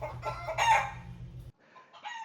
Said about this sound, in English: now we have some chickens doing their chicken thing in the background